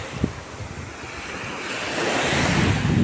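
Sea waves wash and splash onto an Italian shore in a steady, building rush of surf with wind noise on the microphone, growing louder toward the end; no voices.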